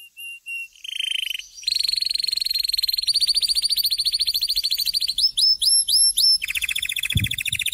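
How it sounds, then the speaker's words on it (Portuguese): A recorded songbird chirps and whistles in rapid repeated trills, loud and close, broadcast over the air on a sports radio show, with a low thump near the end and no talk. "Botaram só o passarinho."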